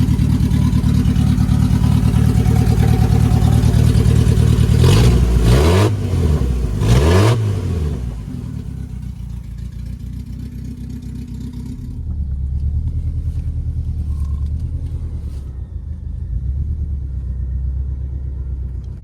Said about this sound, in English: the exhaust already had caught onto the trailer and ripped off right before the catalytic converter, so yeah, it was very loud